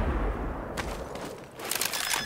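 Gunfire in Counter-Strike on the de_dust2 map during a competitive match, heard as a short burst of rapid shots followed by a few more cracks, with no commentary over it.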